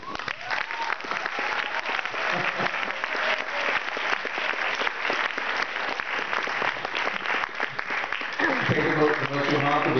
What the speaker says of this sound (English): That should get a round of applause.